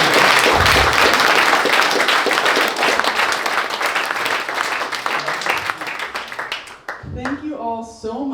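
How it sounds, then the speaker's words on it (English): A crowd at an authors' talk event in Fairbanks breaks into loud, dense applause that gradually thins out, and then a voice starts speaking near the end. "Let's get a big round of applause"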